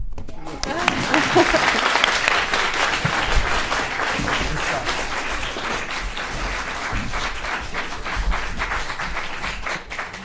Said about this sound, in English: You know it's time to clap